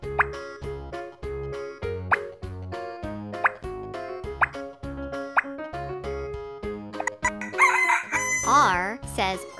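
Rhythmic plopping beats run throughout. Then a toy-like electronic rooster crow from a preschool shape puzzle toy rises near the end, loud and close, over the repeating pattern.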